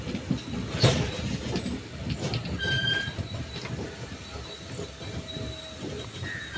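An Indian Railways train at Vilavde station on the foggy Konkan line rumbles steadily nearby, with continuous wheel noise, hissing and brief high-pitched wheel squeals over the whole stretch.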